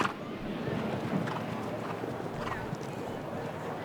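A show jumping horse at a Spruce Meadows national competition gallops through its round, steady rhythmic hoofbeats moderately near under a commentator's voice and arena noise.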